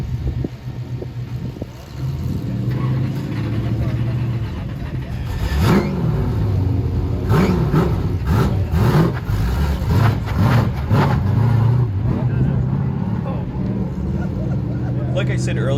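Stock race car on the oval at Stafford Motor Speedway, Connecticut, its engine droning loud and close with repeated revving swells and shifts, a voice talking over it part of the time.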